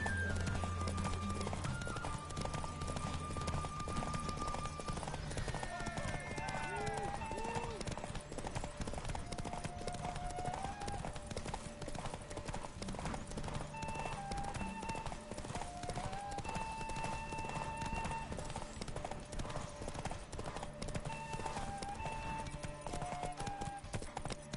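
Roach, a horse in The Witcher 3 on PS4, galloping with steady rhythmic hoofbeats over continuous game music, with occasional snorts and a voice talking over it.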